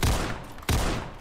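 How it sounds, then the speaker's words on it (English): Two sharp sniper gunshots ring out in the Roblox shooter Counter Blox, each a loud, close crack with a short decaying tail, spaced about two-thirds of a second apart. "I got sniped!"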